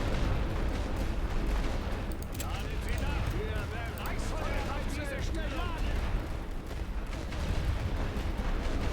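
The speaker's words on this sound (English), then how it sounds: "he's been hitting this spot pretty hard with heavy artillery" Heavy artillery pounds away in The Great War: Western Front, a First World War strategy game, as a dense, unbroken roar of battle rumbles on for several seconds with voice-like cries woven through the din.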